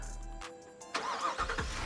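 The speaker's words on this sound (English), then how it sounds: "that key fob does also give us remote start" A 2022 Ford F-250 Super Duty with a 7.3L engine starting by remote start, a brief crank that catches into a rising rev and then settles into an idle rumble, heard up close.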